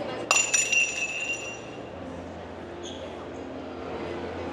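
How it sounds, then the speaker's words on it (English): A ceramic pot smashes at a table in a busy Dubai Mall venue, a sharp bright crash with ringing clinks that fades quickly into steady crowd murmur. "I just smashed a pot off the edge of the table in front of everybody"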